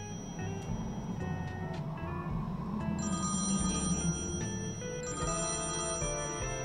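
An out-of-order payphone in the video game Thimbleweed Park rings steadily and loudly, its electronic bell tone repeating in continuous bursts with no talking over it.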